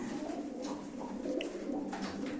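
Pigeons at a live pigeon auction coo in a continuous low murmur, dense and close, over faint background noise.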